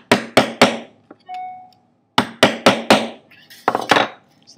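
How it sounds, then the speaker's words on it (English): Hammer blows on a metal texture stamp pressed into a metal sheet resting on newspaper, sharp ringing strikes in a quick group of three, a brief tonal ring, then a faster run of four and two more, loud and close. "and then you're going to use a hammer to imprint it into the surface."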